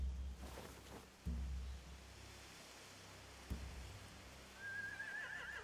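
A horse whinnies in The Walking Dead video game, a faint neigh rising near the end over a low ambient rumble, with a few soft thuds and rustles earlier in the scene.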